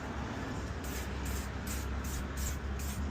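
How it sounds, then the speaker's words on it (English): Short bursts of a spray can hiss in a steady rhythm as an awning is spray painted outdoors near a dumpster in strong wind, over constant background rumble, with no talk. "I think I'm ready to go outside and start spray painting this awning"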